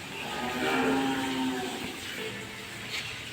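Cattle moo repeatedly at a large cow farm in Savar, Dhaka, low drawn-out calls rising and fading over steady barn ambience, with no talk.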